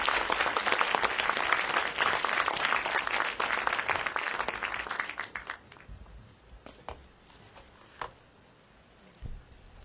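An audience gives a warm round of applause for Mr. MVP at a morning talk on digital work. Dense clapping holds for several seconds, then thins to a few scattered claps.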